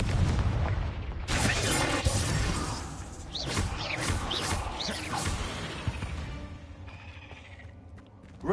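A Confringo blasting curse in Hogwarts Legacy bursts with a loud explosive blast, followed by rumbling debris, crackling and rattling that slowly fades.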